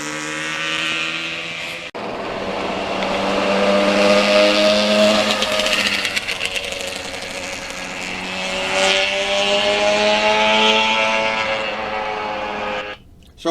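A restored 1985 Yamaha RZ350 two-stroke motorcycle, engine and expansion-chamber pipes revving, a loud buzzy rising and falling drone held close by, with a sharp start and abrupt cutoff.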